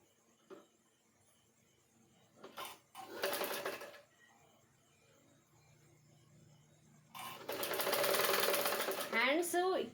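A sewing machine stitches the sleeves onto a size 32 blouse in two clear bursts of rapid mechanical chatter, the second one longer, with quieter pauses between them and a voice speaking briefly at the end.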